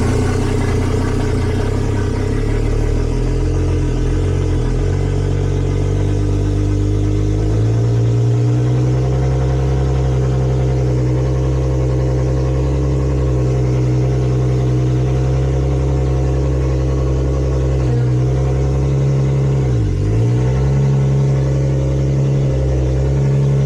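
A BMW E30 fitted with a turbocharged M52 engine runs steadily at idle, a loud, continuous low-pitched drone that dips briefly in pitch near the end, with no one speaking.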